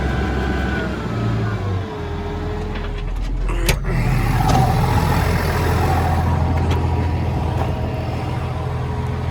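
A quiet machine with big tires idles steadily up close, its low engine drone rising briefly into a rev and settling back to a smooth, even running note throughout.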